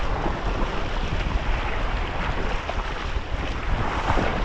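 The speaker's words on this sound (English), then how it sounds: "Woo, windy." Strong wind buffets the microphone while kayaking on Lake Superior, a continuous loud roar mixed with water and waves and no pauses.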